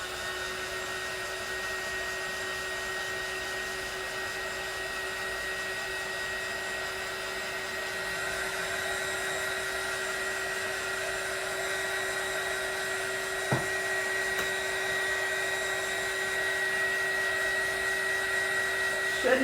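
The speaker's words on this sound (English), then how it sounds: "I'm going to go use my heat gun on this real fast" A heat gun blows steadily while drying alcohol ink on a tumbler, a loud continuous whine with an even airy roar and a brief knock near the end.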